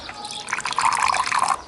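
Water pours briefly at close range: a faint splash that swells into a bright, bubbling trickle lasting about a second.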